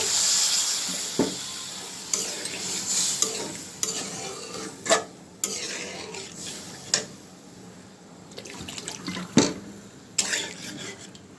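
A spice paste fries in a pan with a steady sizzle, repeatedly stirred so that a spatula scrapes and knocks against the metal in sharp, irregular strokes every second or two, close up and without talk.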